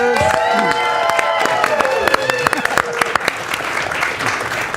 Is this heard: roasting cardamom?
no